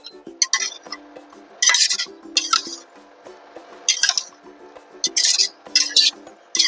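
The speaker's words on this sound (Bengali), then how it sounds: "একটু নাড়াচাড়া করে নিচ্ছি ছোলা এবং পনির একসঙ্গে।" Chickpeas and fried paneer are stirred in a thick gravy in a pan, producing irregular wet squelches and metal spoon scrapes and clinks against the pan, close up and intermittent.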